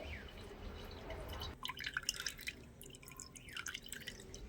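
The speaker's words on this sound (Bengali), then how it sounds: "হালকা হাতে এভাবে করে চেপে চেপে নিলে দেখবেন জলটা খুব সুন্দরভাবে ঝরে যাবে" Water drips from squeezed chhena (fresh cottage cheese) in a quiet kitchen, making a quick run of small, close, irregular drops and trickles over a soft background.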